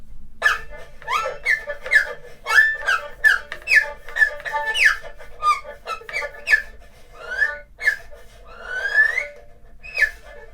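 An erhu mimics bird calls in a quick series of short chirping, squeaky bowed notes with sliding pitch, bright and close, ending in a longer rising trill.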